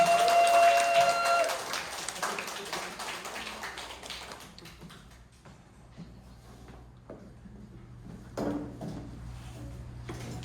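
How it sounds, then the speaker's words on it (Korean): An audience at a business lecture in Daegu claps for a newly introduced guest speaker. A dense burst of applause opens loudly, then thins into scattered claps and taps over a steady low hum. "힘찬 응원의 박수 부탁드립니다."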